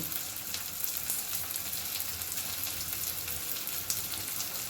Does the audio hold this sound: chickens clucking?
no